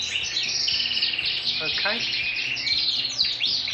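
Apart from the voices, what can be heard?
Norwich canaries chirping in a bird room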